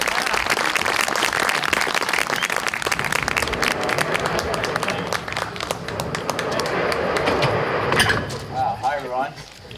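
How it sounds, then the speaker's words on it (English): A theater audience applauds a musician at a live music night, with sustained dense clapping and crowd noise throughout, easing slightly midway before a voice speaks near the end. "Give him a round of applause."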